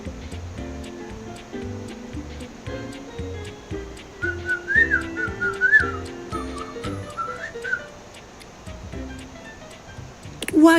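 A short, wavering whistled tune rises in the middle of a steady ticking, rhythmic backdrop, faint and brief against the ongoing music, ending with a sharp burst.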